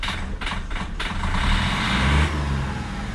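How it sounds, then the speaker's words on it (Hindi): A car engine runs loud and steady as the accelerator is pressed, with the revs swelling slightly midway before settling. No one speaks. "आवाज़ चल रही है, जैसे ही एक्सीलेटर दूंगा"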